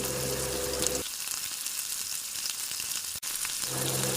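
Chopped onion hits hot mustard oil with whole cumin seeds, giving a steady close-up sizzle and crackle that briefly settles lower in the middle before swelling again, with no voices.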